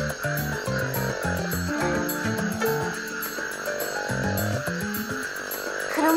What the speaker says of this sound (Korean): 여기에 사탕수수 두꺼비가 엄청 많아요